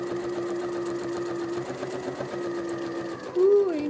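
A sewing machine stitches a quilt along a ruler template, running in a steady fast whir with a brief rise in pitch near the end, and talk running faintly beneath.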